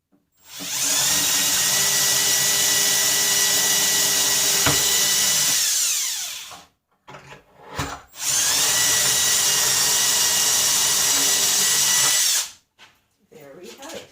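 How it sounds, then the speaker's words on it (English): A power drill fitted with a 3/16 bit bores a hole for a drawer handle, whining steadily in two long, loud bursts separated by a brief pause, with no talking. "and then I'm just going to drill in the hole here."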